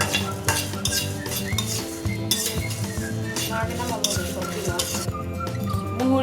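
Dried chillies, coriander seeds and fennel dry-roasting in a pan for a tart pickle, with busy rattling, clinking stirring and scraping throughout, fairly loud and close.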